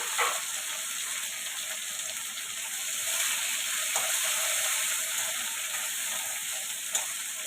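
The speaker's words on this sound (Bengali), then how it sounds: "তেলটা তো গরম, এমনি কড়াই গরম আছে বন্ধুরা। আমি দিয়ে দিলাম পেঁয়াজ আর একবারে কাঁচা লঙ্কা," Onion, green chilli and tomato fry in hot oil in a wok, giving a steady, bright, close sizzle that runs throughout, with a few faint clinks and stirring bumps.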